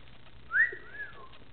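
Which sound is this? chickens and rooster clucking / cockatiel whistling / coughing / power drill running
cockatiel whistling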